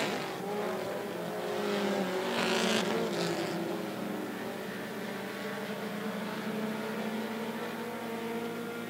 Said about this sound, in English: Nick Perry with a run down the back straightaway